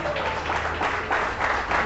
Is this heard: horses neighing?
no